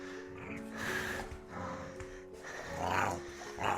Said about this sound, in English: I don't know if you can hear her growling at me